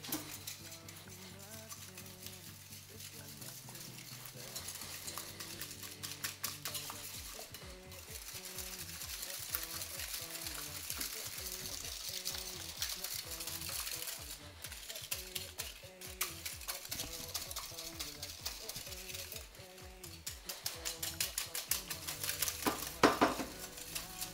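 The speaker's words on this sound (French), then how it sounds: "on va mettre les 8 jaunes d'œufs avec le sucre et on va blanchir tout ça" Egg yolks and sugar are beaten together in a bowl for pastry cream, giving a quick, steady rhythmic whisking clatter close by that runs continuously, with a lower hum at the start.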